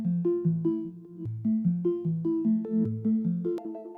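A dark melodic sample processed with halftime, a phaser and reverse effects: a slow, plucky looping figure of repeated notes with swelling attacks, moderately loud and alone without speech.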